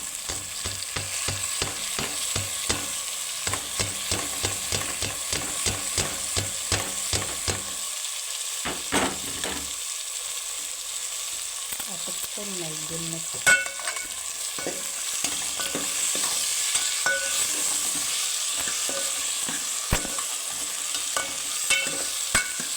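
Tomato pieces and onion drop into a hot pan for a potato-tomato-onion curry, sizzling and frying with repeated scraping stirs of a spatula, a steady crackle punctuated by sharp clicks and brief quieter gaps.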